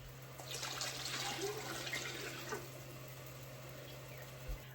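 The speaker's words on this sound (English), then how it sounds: "So we're gonna just go in with some more hot water." Hot water pouring into a canning pot holding jars of garden salsa, a steady rushing splash with a constant hum underneath, close and continuous for several seconds.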